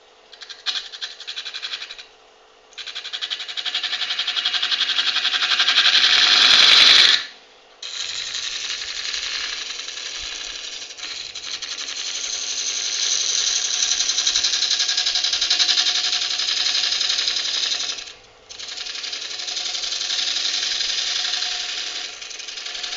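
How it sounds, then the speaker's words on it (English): A spindle gouge cutting a maple burl on a wood lathe while turning a vase, giving a loud, continuous rough grinding chatter that breaks off briefly a few times, then resumes, close up with no talk. "the last cut I will do with the no, not this one, with the spindle gouge."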